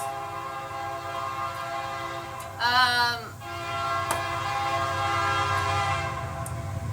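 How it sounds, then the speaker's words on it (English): A train passes near the tracks beside a home, a rumbling steady roll with a loud horn blast sounding briefly in the middle, heard close by with no talking. "There's a train coming."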